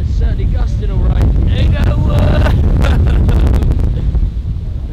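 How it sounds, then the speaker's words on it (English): Storm-force wind gusts through woods at a camp, loud buffeting roars battering the microphone almost continuously, easing slightly toward the end. "That's some serious wind going on now."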